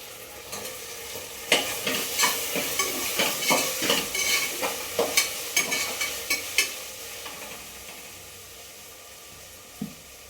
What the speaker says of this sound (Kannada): ಈಗ ಎರಡು ಸಣ್ಣ ಸಣ್ಣಗೆ ಹಚ್ಚಿರೋ ಟೊಮೊಟೊ ಹಾಕ್ಕೊಳ್ತಾಯಿದ್ದೀನಿ